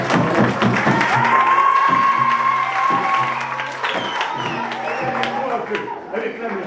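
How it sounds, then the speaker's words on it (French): Schoolchildren at a middle school in Nice applaud loudly after a storyteller's visit, a busy burst of clapping and thumps with shouting voices and chatter layered over it, tapering slightly toward the end. "On leur applaudit très fort."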